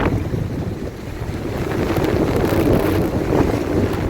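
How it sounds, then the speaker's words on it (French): Strong wind buffets the microphone at Lake Balaton, a dense, roaring rush that swells and stays loud throughout with no voices. "le résumé, c'est le vent."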